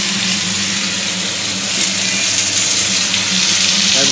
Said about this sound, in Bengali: আর ভালো করে ডাঁটাগুলো ভেজে নেব।